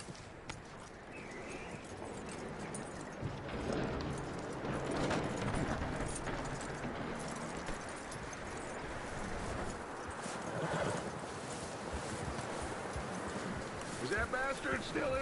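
Horse hooves clop at a steady walking rhythm on the ground in the video game Red Dead Redemption 2, fairly quiet and close, mixed with ambient outdoor sound and occasional voices.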